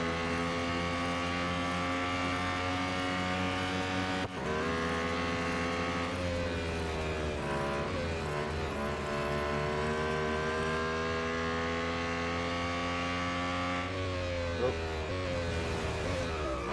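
Lotus Emira GT4 race car in the Real Racing 3 video game, with a sustained high-revving engine whine that shifts pitch through gear changes and braking, loud and continuous.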